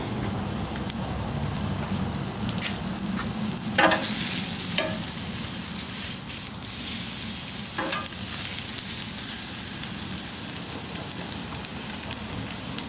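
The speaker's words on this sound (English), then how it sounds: "Got a little bit of a grease fire there." New York strip steaks sizzle on a Camp Chef Sidekick grill box, a steady, close crackling hiss of fat and grease with a few louder pops and flares, running on without any talk.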